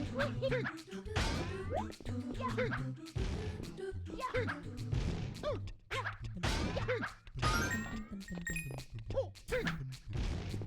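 Repeated thuds and crashes of Mario ground-pounding in Super Mario Sunshine, mixed in with busy game sound effects and music. The impacts come in a rapid, irregular series and stay at moderate loudness throughout.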